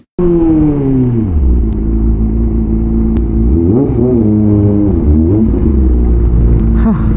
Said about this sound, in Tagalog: Grabing traffic ngayon, men.